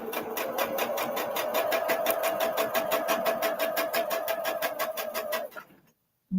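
A Jazz sewing machine stitches a mug rug in a steady, fast, even rhythm of needle strokes under a mid-pitched motor hum, running loud and close for several seconds before stopping abruptly into silence.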